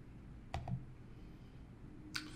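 Two faint, soft computer mouse clicks, one near the start and another a moment later, isolated against a quiet room background.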